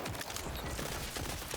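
A Whiskey Foxtrot gun in the video game Borderlands 4 fires in quick bursts. The rapid clusters of shots sound fairly faint and distant, with no talking.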